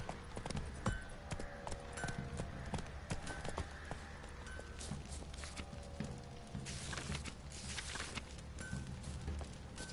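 Roach, Geralt's horse in The Witcher, clip-clops along at a steady walking pace, the hoof falls close and even, with game ambience beneath and no one talking.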